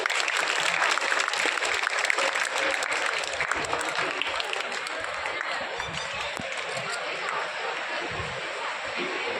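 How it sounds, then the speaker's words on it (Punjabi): Applause fills a school award ceremony honouring top-scoring students, a dense, sustained clapping from a crowd that stays steady and loud for the full stretch. "ਅਜੀ ਤਾੜੀਆਂ ਲਗਾ ਦਿਓ"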